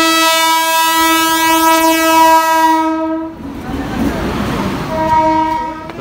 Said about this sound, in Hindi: तो गाइस, हमारी ट्रेन आ गई है